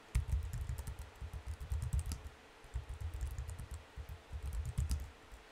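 A password being typed on a computer keyboard, heard as steady bursts of close, light key clicks in an irregular rhythm with short pauses, continuing throughout with no talking.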